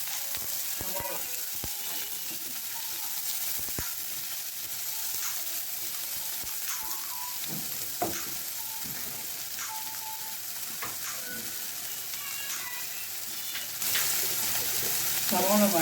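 Onions fry in a pan with a steady, soft sizzle and occasional stirring scrapes and clicks, close up, with a brief rise in hiss near the end.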